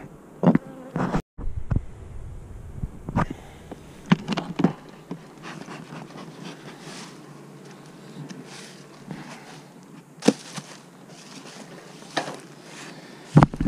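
Bees buzz continuously around beehive drone frames, a close, steady hum with occasional louder passes as individual bees fly near, and no talking.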